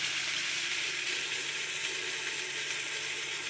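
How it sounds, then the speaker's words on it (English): Ham steaks frying on a hot Ozark Trail butane griddle give a steady, bright sizzle that stays close and even throughout, with no talking over it. "Yep, you hear the sizzle."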